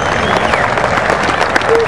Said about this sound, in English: Tonight's honorary official, a big round of applause for Mr. Doc Rhodes.